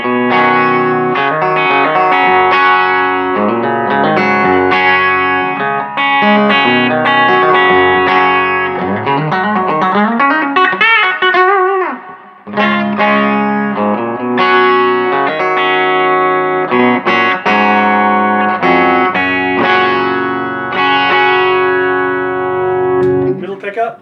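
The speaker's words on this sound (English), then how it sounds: "So this is just the amp with the reverb." A Quilter SuperBlock US amp carries an electric guitar with only its reverb, a long stretch of strummed chords and melodic runs played loud and continuous with a light breakup, no talking over it.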